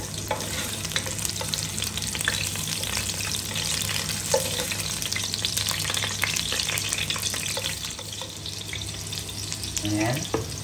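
Ginger fries in hot oil with a dense, constant sizzle and crackle, steady and close for the whole stretch, with faint stirring scrapes and a brief rising squeak near the end; no voices.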